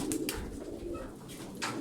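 Taklacı tumbler pigeons coo softly nearby, a few low murmuring calls rising and fading over quiet background noise.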